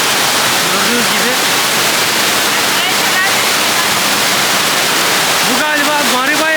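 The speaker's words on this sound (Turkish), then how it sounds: "Diğer bir şelaleye geldik arkadaşlar." The waterfall at Maribaya in Bandung, Indonesia, a loud, dense, continuous rushing roar heard up close, with a voice speaking faintly under the water noise at moments.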